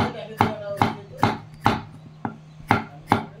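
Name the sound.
chopping capsicum into thick pieces for chowmein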